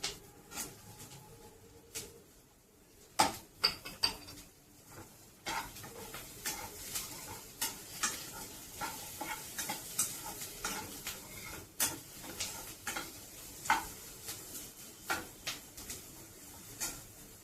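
Ginger and chilies frying in a pan for Delhi-style chole, with a quiet sizzle under frequent rhythmic spoon stirs and clinks against the pan, close and without talking.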